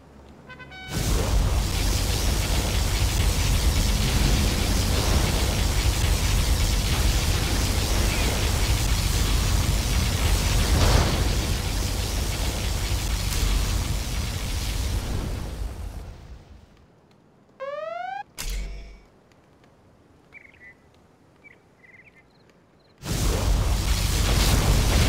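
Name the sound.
particle cannon firing in video game Generals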